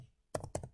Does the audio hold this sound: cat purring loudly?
no